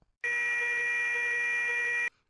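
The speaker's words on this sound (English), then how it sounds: "On hearing the buzzer" Railway station block instrument buzzer sounding one steady, loud electric tone for about two seconds, starting and stopping abruptly with nothing else heard.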